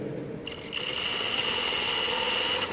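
Sewing machine stitching a button up shirt, a steady close whirring hum that starts abruptly and runs continuously to the end.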